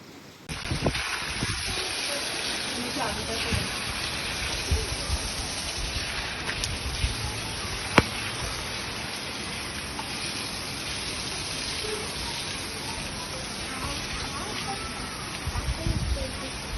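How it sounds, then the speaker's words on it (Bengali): Steady hiss of rain falling, constant and moderately loud throughout, with a few faint knocks and background sounds. "বৃষ্টি শুরু হইল"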